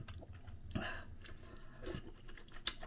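Bites and wet chewing on a large raw oyster with a hand-span shell, several crunchy, squishy mouthfuls close to the mic in a quiet room, a couple of sharper crisp bites standing out.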